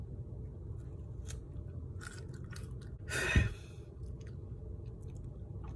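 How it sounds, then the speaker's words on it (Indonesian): Chewing on a peeled natural cough remedy, with a soft mouth noise and one brief louder crunchy bite in the middle over a low steady background hum. "Terus kita kunyah."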